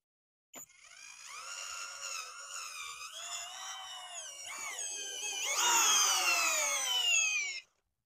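A Skil PowerCore 12 cordless drill in drill mode, speed 1, at peak torque on a fully charged 2.0 battery whirs steadily for several seconds, its pitch wavering slightly, then climbs to a louder, higher strain before cutting off abruptly.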